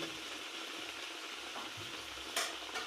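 Matar kochuri puris fry in hot oil with a soft, steady sizzle and bubbling, plus a brief clink near the end, with no talking.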